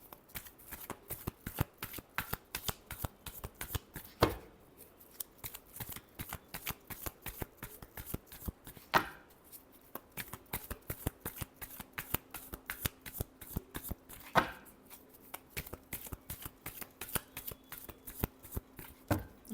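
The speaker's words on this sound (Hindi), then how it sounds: "Last shuffle." Tarot cards being shuffled by hand in a long run of rapid, crisp riffling bursts with brief pauses between them, close and clear with no talking.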